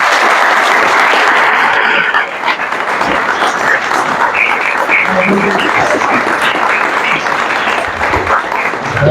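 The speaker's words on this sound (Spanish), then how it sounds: "yo quiero que den un aplauso grande a Julio." A loud, close, sustained round of applause for a poet at a library literary event. Many hands clap densely and continuously, with a brief dip in intensity partway through before it swells again.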